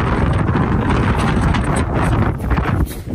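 Steady wind in the Sierra Nevada mountains buffets the microphone throughout, a dense low rumble with no pauses.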